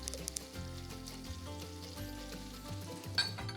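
Butter sizzles in a hot pan, a steady close crackle that runs without a break from start to finish.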